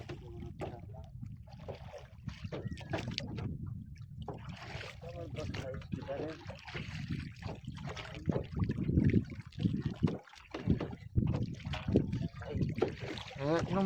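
A fishing boat moves across water, with low, uneven motor-like rumble and lapping splashes under intermittent nearby talk.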